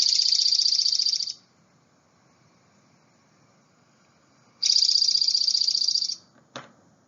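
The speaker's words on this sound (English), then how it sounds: "The dark-eyed junco is a small bird that has a sound like this" A dark-eyed junco sings two rapid, high, buzzy trills, each about a second and a half long, separated by a quiet gap, followed by a single sharp click near the end.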